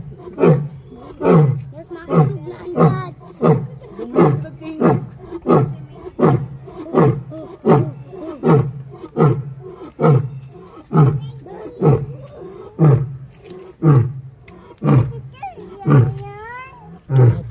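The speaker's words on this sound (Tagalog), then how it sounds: "Oh, roar na tiger." A tiger at a wildlife park in Albay gives repeated loud roars in a steady, evenly spaced rhythm, close by, with people talking around it.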